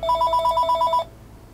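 A mobile phone rings in a room during a game session, a rapid, close, repeating two-tone electronic trill that pulses about ten times over one second and then cuts off into quiet room tone.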